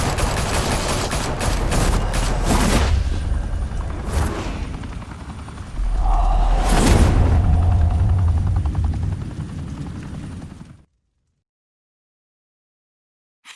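Heavy gunfire and booming blasts in a Batman Telltale Series cutscene, bursts of shots over a thrumming helicopter-like roar, loud and close, cutting abruptly to silence near the end.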